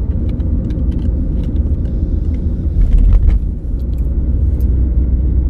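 A car engine accelerating during a driving lesson, a loud low rumble from inside the cabin that swells briefly as the throttle opens, with faint small clicks and rattles above it.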